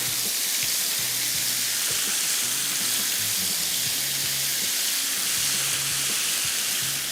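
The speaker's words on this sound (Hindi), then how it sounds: "ये आ गया चिकन, और इसके बाद तेज़ आंच पे पकाएंगे इसको" Shawarma chicken frying over high heat sizzles loudly and steadily in the pan, a continuous crackling hiss with a low bubbling bed beneath and no voice over it.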